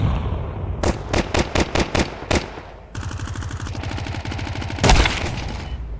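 Counter-Strike 2 gunfire: a string of sharp, loud single shots in quick succession, a short pause, then a sustained automatic burst with one heavier blast near the end.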